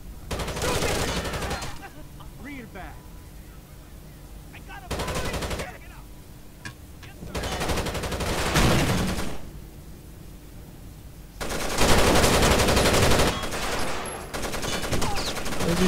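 Enemy gunfire in the video game Rainbow Six Vegas 2 during an online Terrorist Hunt, coming in several loud bursts of rapid automatic shots separated by quieter gaps, with faint player voices between them.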